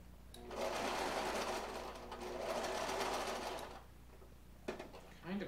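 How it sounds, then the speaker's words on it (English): A sewing machine whirs through two runs of rapid stitching, pausing briefly between them, followed by a few mechanical clicks; a voice talks faintly. "When the foot is down, it allows the sewing machine to pull fabric."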